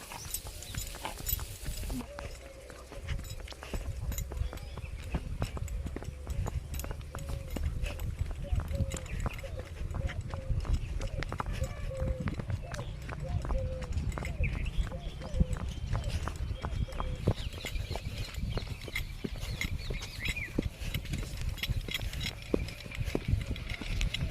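A mare's hooves clip-clop steadily as she is led along at a walk, a continuous rhythmic clatter close by with people talking over it throughout.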